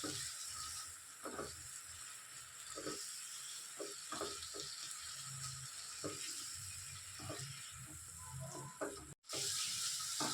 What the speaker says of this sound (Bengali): ভালো করে এখন কষিয়ে নেব।